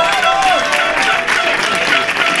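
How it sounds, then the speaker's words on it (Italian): Stadium crowd at a Bovese versus Palizzi football match applauding a substituted player as he leaves the pitch; continuous clapping and crowd noise, with a voice and a whistle-like tone sounding over it. "esce tra gli applausi"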